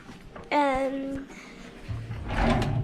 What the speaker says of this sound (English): drawers in here